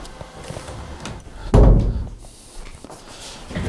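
A door shuts with a single low, heavy thud about midway through, rising abruptly over quiet background hiss and fading within about half a second, with faint scattered knocks around it and no talking.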